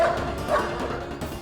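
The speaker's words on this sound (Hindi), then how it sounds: "भौंक इसलिए रहा है क्योंकि ये भेड़िया नहीं कुत्ता है" A husky dog barks and yips in a short, close burst, its calls coming fast against a busy indoor background with no clear speech.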